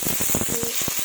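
Ripe figs slide into hot oil in a pan for a Bengali fig chorchori, raising a steady bright sizzle with a few soft thuds and stirring knocks underneath, close and continuous.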